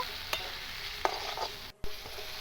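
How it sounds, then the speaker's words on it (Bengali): Chicken bharta masala with chopped tomatoes being stirred in a pan, a steady sizzle with a few sharp scraping knocks of the spoon and a brief dropout, no voices. "তারপর আমি ভালো করে নাড়িয়ে নেব"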